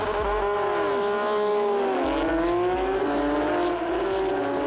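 Porsche Carrera Cup Australia race cars at Porsche Rennsport roar off the start together, a loud dense wall of engine noise with rising and shifting harmonic whines as the pack accelerates and gears change, with no speech.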